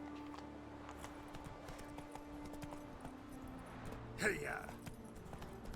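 Roach, the horse in The Witcher 3 video game, clip-clops along at a steady hoof rhythm under ambient game music, with a short vocal call partway through.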